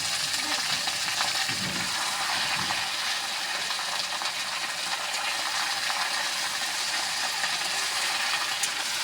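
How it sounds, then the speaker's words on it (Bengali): Jute leaves hitting hot oil in a pan, a loud, steady hiss and sizzle of frying that carries on unbroken, close by, with no talking. "দেখুন এখন পাটের শাকটা দিয়ে দিব।"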